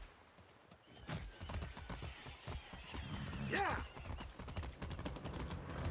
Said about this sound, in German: Ja, wir sind ein Pferd.